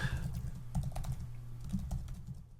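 Fingers type on a computer keyboard in quick, uneven bursts of close clicking keystrokes against a low room hum, with nobody talking.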